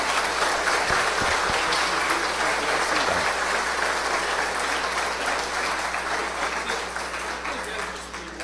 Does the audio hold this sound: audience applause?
yes